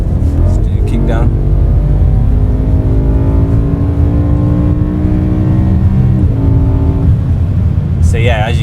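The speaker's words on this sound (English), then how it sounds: "I just kicked down there, it went down to an appropriate gear and revved all the way out." A powerful high-revving BMW S85 V10 engine with a DCT gearbox kicks down a gear and screams up through the revs in one long, loud climbing pull.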